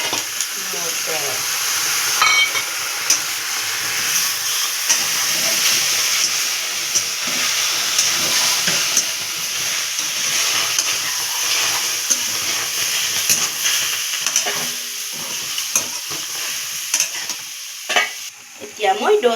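Onion, tomato and peas frying in a pan, a steady broadband sizzle and hiss with occasional stirring scrapes and clinks, continuous throughout at close range.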